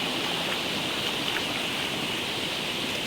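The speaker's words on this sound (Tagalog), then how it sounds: "tingnan natin ang falls natin" Continuous broadband rush of falling water from a waterfall after a typhoon, steady and fairly loud throughout with no voices.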